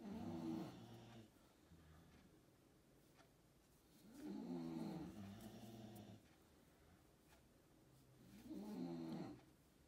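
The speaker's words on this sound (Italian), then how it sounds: "I miei cani russano mentre io faccio i tutorial." Dogs snoring nearby in a slow, steady rhythm, three long rumbling snores spaced a few seconds apart against a quiet room.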